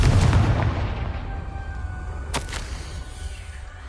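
A Confringo fire-blast spell goes off in a Harry Potter video game, a loud booming burst over a rumbling game soundscape, with a sharp crack near the middle of the clip.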